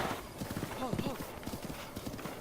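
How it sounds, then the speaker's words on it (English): Wild horses gallop in The Legend of Zelda: Breath of the Wild, giving rapid clip-clop hoofbeats and a brief whinny, with someone talking over them. "Wild horses!"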